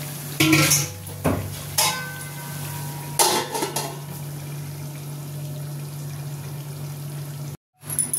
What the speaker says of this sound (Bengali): এবার আমি ঢেকে দেবো এটা